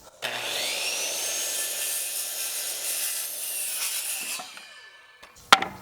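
Power saw blade ripping through a board for floor joists, a steady loud cutting roar of about four seconds that winds down, then a sharp knock as the blade kicks back.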